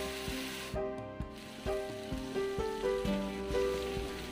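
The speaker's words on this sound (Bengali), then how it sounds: "এবার প্রথমে আলুগুলো সামান্য লবণ দিয়ে ভেজে নিতে হবে।" Potatoes sizzle and fry steadily in hot mustard oil, a continuous crackling hiss broken by a series of sharp rhythmic clicks, close and fairly loud, with no one speaking.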